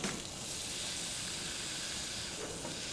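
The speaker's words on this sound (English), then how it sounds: "You're really looking for the sound of like that sizzle." A steady, loud sizzle fills the whole clip, a continuous hiss of oyster mushrooms frying in a hot pan with no talking.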